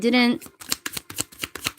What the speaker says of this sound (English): I like to see one card, like, fly out per shuffle.